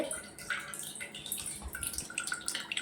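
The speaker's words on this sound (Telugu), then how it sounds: "మా మమ్మీ ఫిల్టర్ వాటర్ పడుతుంది" Filtered water runs from a tap into a container in a home kitchen, making a faint, uneven splashing and dripping sound.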